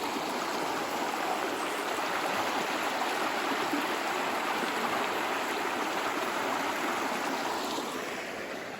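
Steady broadband rush of a creek flowing in rainy weather along a bush walk, a continuous close wash of water with no break and no voices.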